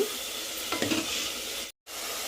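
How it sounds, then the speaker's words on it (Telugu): Tomato paste frying in oil over a slow flame for chicken curry, a steady close sizzle with a brief stirring scrape partway through and a short dropout near the end. "ఈ టమాటా పేస్ట్ కూడా మనకి బాగా ఆయిల్లో ఫ్రై అయ్యి ఇట్లా ఆయిల్ పైకి తేలుతుంటుంది కదా"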